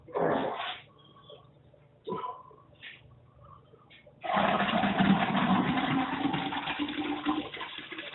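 Home-brewed Christmas porter being siphoned by hand, with brief gurgles and sloshes early on, then a steady, close rush of flowing liquid that continues to the end.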